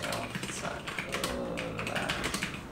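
Rapid, uneven clatter of computer keyboard keys being typed during a typing speed test, continuous and close throughout with no talking.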